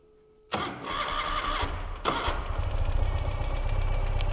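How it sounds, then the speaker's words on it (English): A 2017 Ural cT motorcycle with 2,748 miles, in neutral, cranks and catches about half a second in, briefly stumbles and surges again near two seconds, then settles into a steady, smooth, fairly quiet idle with a low exhaust rumble. "we're gonna start the bike"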